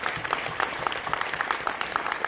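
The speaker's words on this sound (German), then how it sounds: "da kann man auch mal einen großen Applaus" Audience applause at a German cinema premiere Q&A panel for One Piece Stampede: steady, dense clapping from a crowd that fills the whole stretch at moderate level, with no talk over it.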